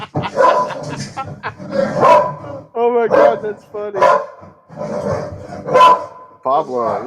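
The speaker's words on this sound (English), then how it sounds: "You can hear the dogs barking through that filter." Dogs bark in short bursts with some yips, heard through an audio filter and mixed in among close, excited talk and laughter from several people indoors.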